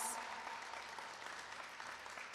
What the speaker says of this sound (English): So can we give the City Council a round of applause?